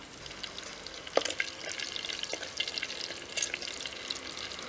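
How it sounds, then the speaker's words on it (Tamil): Mustard seeds crackle in hot coconut oil in a clay pot for a village cooking dish, a close, steady frying hiss with small pops and faint stirring. "எண்ணெய் கொதிச்சுட்டு முதல்ல கொஞ்சம் கடுகு போடுவோம் கடுகு வடிக்கட்டும்"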